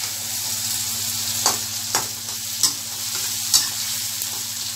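Carrot, beans and potato stir-fry in a hot pan, a steady close sizzle with several sharp scraping clicks of a spoon stirring at regular intervals, no talk.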